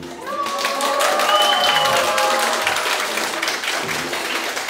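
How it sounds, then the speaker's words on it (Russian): Steady applause from a crowd at a sports event in Rostov honoring a retiring athlete, continuous and fairly loud, with some cheering or whistles rising over the clapping. "Встречали нашу легенду аплодисментами"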